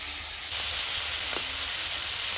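Fish fry in hot oil with a soft bubbling hiss that jumps to a louder, steady sizzle partway through. The sound is fairly close and there are no voices.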